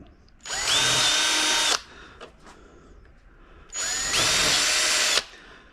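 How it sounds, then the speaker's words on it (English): A power drill with a 4mm bit whirs through plastic in two steady bursts of about a second and a half each, with a short quiet gap and faint handling noises between them. "This is a 4mm drill."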